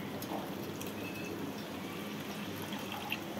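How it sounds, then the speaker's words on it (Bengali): Water is poured into a pan of fried-down spices for a Hyderabadi-style sour catla fish curry, giving a soft, steady hiss and sizzle at low volume for a few seconds, close by. "মশলাটা আমার কষা হয়ে গেছে, আমি এখানে একটু জল দিয়ে দিলাম"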